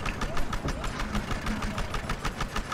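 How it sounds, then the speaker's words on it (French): A motorcycle engine idles in the shooter game Battlefield Hardline, a close, rough, pulsing mid-pitched rumble with steady uneven throbs, with voices talking over it. "Putain, j'ai une moto, vieux."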